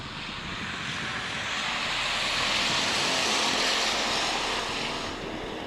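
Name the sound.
race cars racing after green flag at raceway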